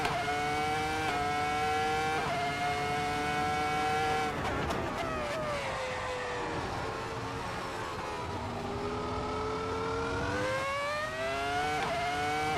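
An F1 car engine at Zandvoort in the Assetto Corsa racing game screams loud and close, with its pitch climbing and dropping sharply through repeated gear shifts and a brief burst of tire noise in the middle.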